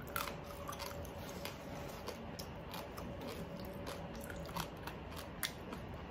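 Crisp, brittle crunching as oven-baked crispy pork chuck is bitten and chewed close to the mic, with repeated sharp crackling bites over a steady low background and no talk.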